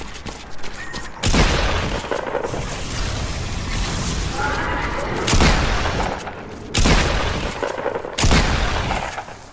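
Sniper rifle in Fortnite fires four loud, sharp booming shots spaced a couple of seconds apart, each followed by a lingering echo and mechanical rattle over game ambience.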